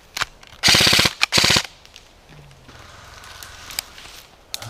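An airsoft gun fires two rapid full-auto bursts close by, each under a second long, followed by a few single sharp shots and quieter rustling and footsteps outdoors.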